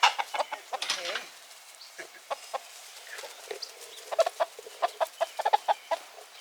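Chickens and roosters clucking in a barnyard, a busy run of short, sharp clucks and squawks close by, coming in quick bursts with brief pauses between them.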